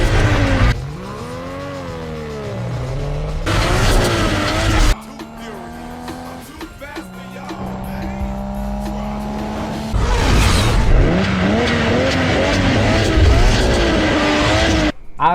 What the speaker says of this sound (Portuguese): Só dá para imaginar o quão legal seria se desse para ter esse mesmo ronco durante a gameplay.